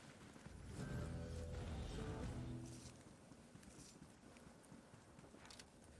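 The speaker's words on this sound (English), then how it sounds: "I hear footsteps." Footsteps in the Fortnite video game, a quick run of soft thudding steps that swells in the first seconds then fades into quieter rustling noise, fairly faint, with no talk.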